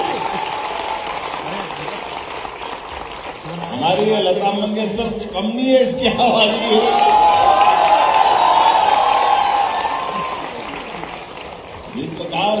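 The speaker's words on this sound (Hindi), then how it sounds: "जोरदार ताली बजा इसकी आवाज के लिए" A crowd claps and cheers for a young girl singer at a youth festival event, swelling in the middle and then easing off. The applause stays in the background under someone speaking loudly over a PA.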